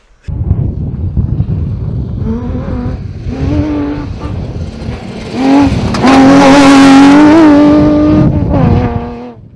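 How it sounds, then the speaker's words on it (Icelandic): A rebuilt rally car engine revs hard and accelerates, its note climbing through rising gear pulls to a loud, sustained scream close to the microphone, with wind buffeting throughout. "þetta er hljóðið verður það þá í nýjum bíl"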